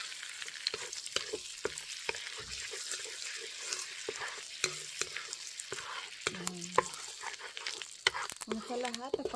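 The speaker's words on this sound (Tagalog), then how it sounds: "Maglalagay tayo ng konting butter para maging malinamnam ang ating niluluto." Butter and oil sizzle softly in a frying pan while bok choy with eggs is sautéed, a faint, steady hiss broken by light scrapes and taps of stirring.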